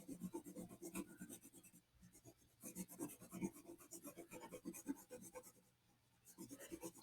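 Someone sharpens a dull drawing pencil with quick, rhythmic scraping strokes, close and quiet, in bursts separated by short pauses.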